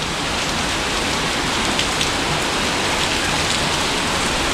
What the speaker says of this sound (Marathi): पाऊस बघा केवढा इकडे भरपूर पाऊस